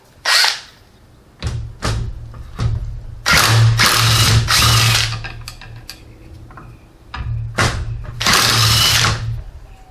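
Bursts of fast mechanical ratchet clicking as nuts are removed from an old front suspension control arm on a Lexus ES300, with short pauses between the bursts, close and fairly loud.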